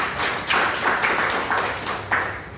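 A classroom gives a group a short, thin round of applause, scattered hand claps rising and falling over a couple of seconds with no talking.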